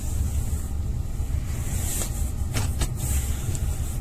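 Taxi car on the way to a passenger pickup, a steady broadband road and engine rumble with wind-like hiss throughout, a few brief higher ticks near the end, no talking.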